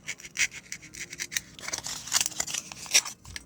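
Hand cutting through foam board with scissors or a craft blade gives close, scratchy rasping strokes in an uneven rhythm, with no talking.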